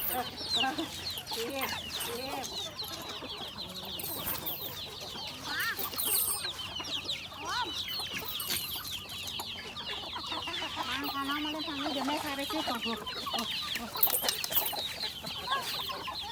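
Chickens cluck and squabble while competing for food, a busy, continuous mix of clucks and squawks close by, with occasional faint human voices in the background.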